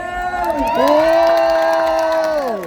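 A crowd cheers at a Thai ramwong dance competition during a festival in Thoen district, loud and close, with shrill sustained whoops riding over the general roar.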